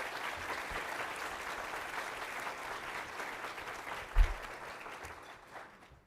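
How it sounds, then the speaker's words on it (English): An audience at a Behavioral Health Professional of the Year awards celebration claps in steady, moderately faint applause that runs the whole time. One louder clap stands out near the end, and the clapping tapers off as it closes. "Can we give them a round of applause?"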